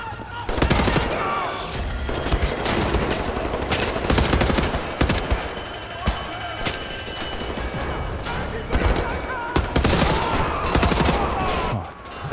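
Rapid dual-wielded gunfire from Wolfenstein: The New Order, loud and dense, with sustained bursts and sharp cracks running nearly throughout, over game combat noise and occasional talk.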